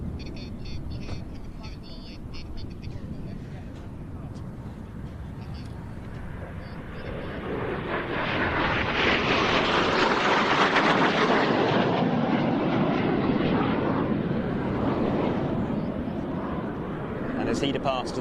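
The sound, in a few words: Frecce Tricolori solo jet arriving for an inverted pass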